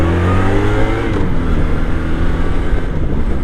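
A 1997 Honda Magna 750cc V4 motorcycle engine revs loud and close, its pitch climbing then settling into a steady, rough drone for several seconds with no talking.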